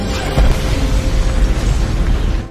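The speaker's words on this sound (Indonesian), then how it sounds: "terjadi ledakan yang membuat dirinya terpental" A loud, deep explosion booms and rumbles for a couple of seconds before cutting off abruptly.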